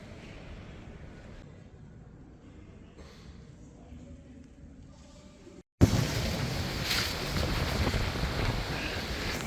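Heavy wind buffeting the microphone in a steady roar on a high balcony atop Mount Tibidabo, Barcelona, quieter at first, then abruptly much louder and harsher for the rest of the clip.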